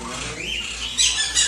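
A pet bird imitates a rooster's crow with a drawn-out, rising squawk up close, followed by sharper, shrill bursts near the end, heard alone.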